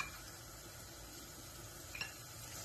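Garlic sizzling in a pan with vermicelli browning for Egyptian koshari, a soft continuous frying hiss with a light clink of a utensil near the end.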